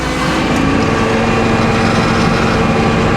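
A saw cuts steadily through a locust log, giving a continuous loud, close engine whine with a dense gritty texture and no talking.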